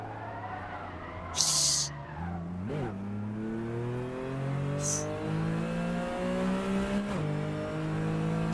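Race car in the Assetto Corsa video game revving and sliding, engine pitch climbing and dropping through gear changes, with bursts of tire squeal and scraping as the car slides; steady, close, no talking.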